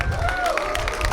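Audience applause at a live artist interview session, a brief burst of crowd clapping and cheering with voices mixed in.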